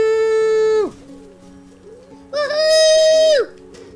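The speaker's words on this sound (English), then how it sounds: "Oh, birds." Birds chirp in the Unravel 2 video game: two long, loud, bright tonal calls, each held then falling sharply, separated by a quieter stretch with soft background music.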